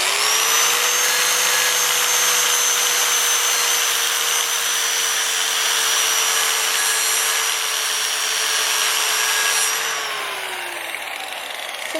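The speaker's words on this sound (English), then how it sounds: "you're going to take your angle grinder like this again, and you're going to run along right here" An angle grinder runs steadily along metal in a blacksmithing project, a loud sustained high-pitched whine with a grinding hiss that holds constant and then winds down near the end.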